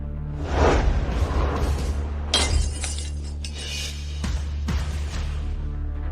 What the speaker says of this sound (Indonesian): Ini hanya botol pecah.